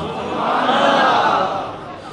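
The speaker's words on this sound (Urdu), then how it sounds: "تمہارے نعرے مبارک ہوں" A large audience at an Islamic sermon by a preacher chants religious slogans in unison. The loud, massed roar of voices swells and then eases.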